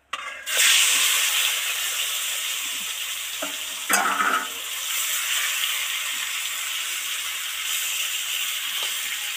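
Pangas fish fillets coated in oil, with no water added, slid into hot oil in a wok, giving a loud steady sizzle and hiss throughout, with a brief louder crackling burst as pieces hit the oil.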